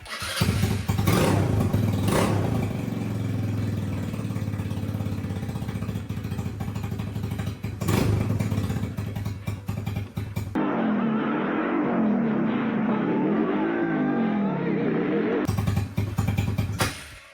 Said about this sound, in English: Once I start the bike, the headlight went. And then I'll show you, I'm going to rev it up